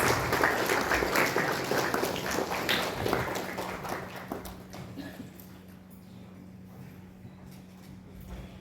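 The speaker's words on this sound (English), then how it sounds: "once again, let's have a big round of applause for this momentous occasion" Sustained audience applause at a launch event at NIELIT Kohima, loud and dense at first, then thinning out and fading over several seconds into quiet room tone.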